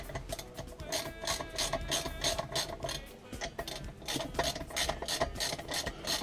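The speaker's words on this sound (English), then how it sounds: "Now I need to undo these bolts here and swap over the sprocket." A ratchet loosening the sprocket bolts on a ZZR1400 motorcycle, with repeated quick clicking strokes in steady bursts, close and clear.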